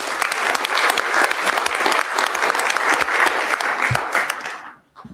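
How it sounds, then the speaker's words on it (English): At a city council meeting a room applauds a clerk's department employee honoured for 25 years of service, sustained crowd clapping for about five seconds before fading abruptly into quiet. "Let's give her a round of applause."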